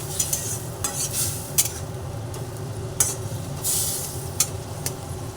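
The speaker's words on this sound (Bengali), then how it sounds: "জল দিয়ে এবার ভালোভাবে একটু নাড়াচাড়া করে নিচ্ছি" Fried egg and tomato with a little water are stirred in a pan, with a low simmering sizzle under repeated sharp scrapes and taps of the spoon against the pan.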